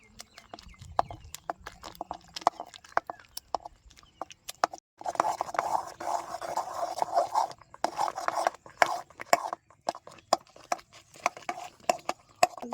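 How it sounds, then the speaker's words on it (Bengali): Boiled mangoes are pressed and mashed with the bottom of a glass, giving repeated wet squelches and scraping rubs in an uneven rhythm. A few sparse clicks come first, then steadier pressing. "এই গ্লাসের পিছন দিয়ে চেপে চেপে আমগুলো ভালো মতো গালায় নেবো"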